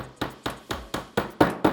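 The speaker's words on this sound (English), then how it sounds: "On the hammer, we're going to use the Delrin side to drive the punch the majority of the way in." A Delrin-faced hammer drives a roll pin punch into a Walther PDP pistol frame: seven sharp, close taps at a steady, even rhythm, each with a short ringing decay and no talking.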